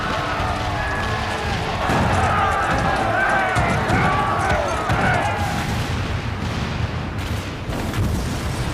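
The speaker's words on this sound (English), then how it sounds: "All cannons resume firing!" Cannons fire in battle in Final Fantasy XIV: Stormblood, a dense, loud wash of booms and rumbling combat noise. Music and shouting voices run over it throughout.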